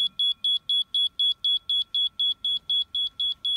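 Laser level receiver beeping as it reads on-grade during a grade check, a steady run of about fourteen evenly spaced, loud, high-pitched beeps with no talking.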